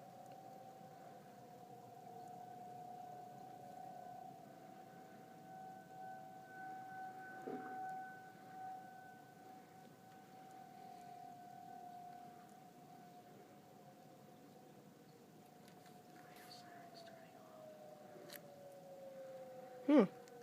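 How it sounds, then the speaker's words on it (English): Tornado siren test in New Haven, Michigan, on a snowy day around 9 degrees, heard as a faint steady distant wail that slowly winds down toward the end, ending with a sharp close knock. "Sirens are turning off real quick."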